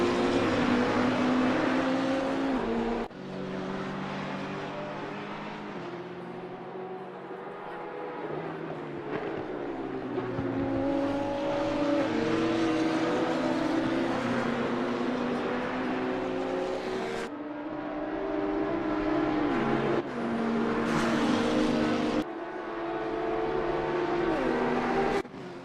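Race cars in car 18's field roar around the track on lap 5, engines rising and falling continuously as they accelerate and pass, loud and close throughout with several sharp cuts between shots.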